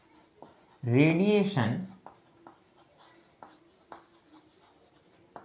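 Writing on a classroom board in a physics lesson, heard as short scratchy strokes in a loose rhythm after a brief spoken word from a teacher.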